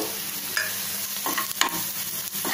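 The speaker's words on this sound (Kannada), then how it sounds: "ನೋಡಿ ಈಗ ಒಂದು ನಿಮಿಷ ಹೀಗೆ ಫ್ರೈ ಮಾಡ್ಕೋಬೇಕು" Onion and green chilli fry with turmeric in a pan for aloo bonda, a close, loud sizzle broken by a few brisk stirring scrapes, with no voices over it.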